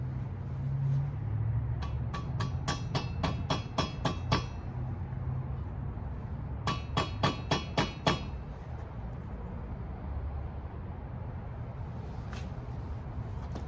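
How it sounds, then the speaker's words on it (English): Two bursts of rapid metallic hammer taps on a socket seating valve stem seals on Gen 3 Hemi heads, about ten quick strikes each, ring out close by over a low background hum, with a stray tap near the end. "use a similar sized socket with a hammer to tap it into position"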